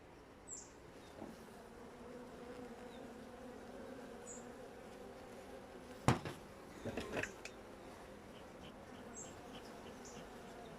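A low, steady hum of honeybees buzzing at an open hive, with occasional louder bees passing close and a few sharp knocks and clatters partway through as frames are handled.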